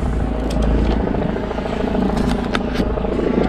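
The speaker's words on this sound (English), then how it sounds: "Well, there's some helicopter." A steady low rumble of a helicopter fills the air, constant and fairly loud, with a few faint crackles on top.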